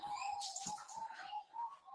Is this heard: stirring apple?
no